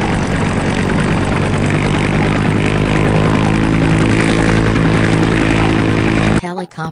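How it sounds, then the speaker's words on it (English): Helicopter engine and rotor drone, a loud, steady, tonal roar that holds evenly before cutting off abruptly near the end. "Helicopter."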